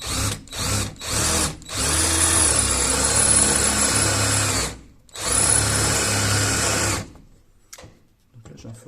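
A power drill bores with a worn bit that struggles to cut, letting out short whirring bursts at first, then a long sustained run, a brief pause and another long burst before it stops.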